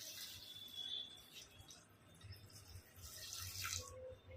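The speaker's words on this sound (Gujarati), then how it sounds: "પછી એમાં 2 ગ્લાસ જેટલું પાણી એડ કરી દો" About two glasses of water are poured into a pressure cooker holding spinach and lentils, a quiet, continuous trickle and splash heard faintly and alone.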